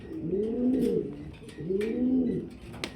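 Pigeons cooing at a pigeon farm, two distinct close coo phrases with a pause between, each a low throaty swelling call, with faint background clatter and no talking.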